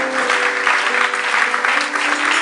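A church congregation applauding during a sermon, steady loud clapping from many hands filling the whole moment, with no voices over it.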